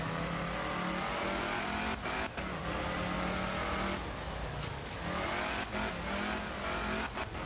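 Lancia Fulvia rally car in the racing video game Art of Rally, its engine revving hard and continuously under full throttle, with brief dips as gears shift, loud and up close throughout.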